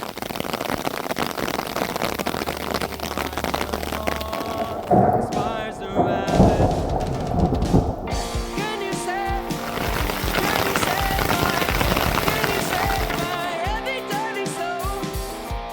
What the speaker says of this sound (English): So currently I am waiting out the storm before I go up over this pass, just on the off chance of lightning.